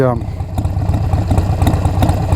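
Exhaust pipes on a Harley-Davidson Iron 1200 motorcycle idle with a steady, deep, lumpy rumble, loud and close, with a rider's voice talking over the engine.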